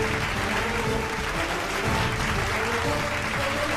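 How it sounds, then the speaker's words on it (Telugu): A crowd of people claps steadily, a dense, even burst of applause filling the whole stretch at moderate volume. "చప్పట్లు కొట్టండి."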